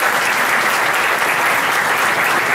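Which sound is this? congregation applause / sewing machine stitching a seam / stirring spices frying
congregation applause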